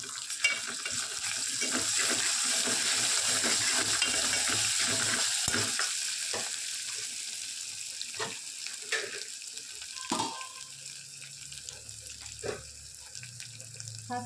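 Spices for tomato rasam, with asafoetida, turmeric and a little ginger, sizzle in hot oil in a pan. A steady frying hiss runs under scattered scrapes and clinks of stirring, and the sizzle fades slightly toward the end.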